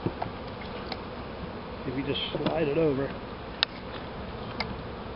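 A captured honeybee swarm hums steadily inside a hive box as the lid is slid closed. The dense, continuous buzzing sits close by, with a person speaking briefly over it.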